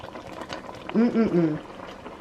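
Belizean pumpkin stew reducing in a pot, with a brief bubbling burst of thick liquid over a quiet kitchen background.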